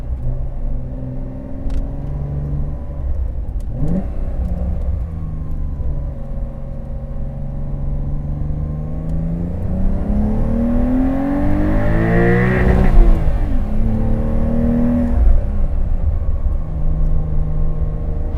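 A 2025 Porsche 911 Carrera T with a six-speed manual pulls hard in second gear, its loud, steady engine note rising in pitch as it accelerates, then easing briefly before climbing again, heard alone from inside the car.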